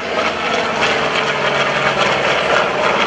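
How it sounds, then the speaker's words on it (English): A Douglas Skyraider propeller aircraft makes a loud, steady photo pass at an airshow, its engine drone filling the whole stretch with a continuous roar. "Here comes the Skyraider, a nice photo pass."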